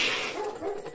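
A dog gives a short burst of barking and whimpering yips, loud and close, filling about a second.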